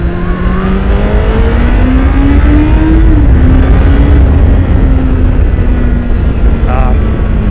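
A 2016 Honda CBR1000RR SP sportbike pulls hard from first gear on a road, its engine note climbing loud and close under heavy wind rush, with no speech over it.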